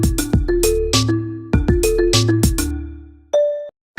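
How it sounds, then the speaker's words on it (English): A telephone ringtone plays loudly and up close, a bright chiming melody of struck bell-like tones in a repeating pattern, ending on a sustained note before cutting off. "The telephone is ringing again"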